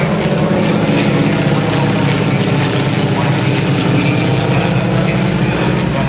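Steady engine drone of Stearman N2S propeller biplanes flying past at an airshow, loud and continuous, with a low rumbling hum that holds throughout without fading.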